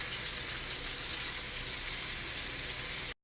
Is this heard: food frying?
yes